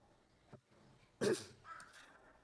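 A single sharp cough bursts out close by, preceded by a small throat noise, followed by a faint breathy rasp.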